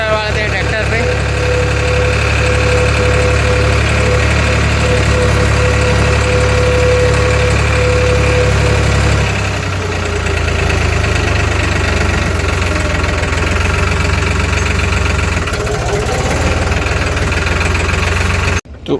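A tractor's diesel engine idles steadily and loudly nearby during refuelling, a constant low knocking rumble that barely shifts over nearly twenty seconds, with people talking over it.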